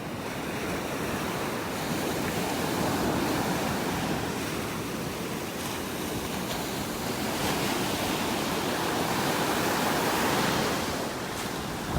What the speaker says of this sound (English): And those waves are pounding again up by those trees.